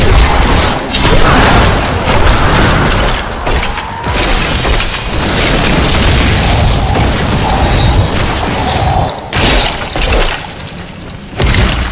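Loud, repeated booms and bursting blasts in Diablo III played as a hardcore necromancer, layered with crunching combat effects and a thick, dense rumble throughout.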